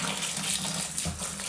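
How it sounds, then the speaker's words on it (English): Boiling water pours from a kettle into a homebrew beer-kit vessel, a steady gushing splash that stays loud and even throughout, with no talking. "So I'm going to pour most of it in here."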